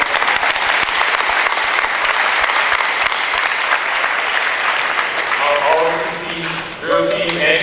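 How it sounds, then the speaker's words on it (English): Loud, sustained applause from a school assembly audience honoring a symphony band at a Veterans Day event, dense clapping that fills the room before fading as a voice begins speaking near the end. "Let's give them a round of applause."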